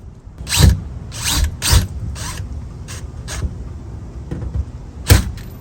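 A screw is driven into a steel door while a Blink doorbell is installed. Short bursts of a power driver whir and ratchet close up in a stop-and-start rhythm, with no talk.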